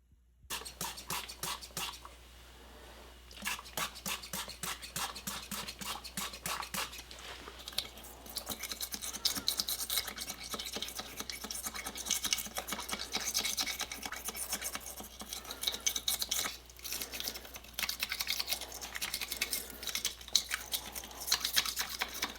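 Brisk, continuous scrubbing and rubbing inside a carbon-fouled intake port of a B7 Audi RS4 with brake cleaner, a dense rasping texture of rapid strokes that pauses briefly now and then.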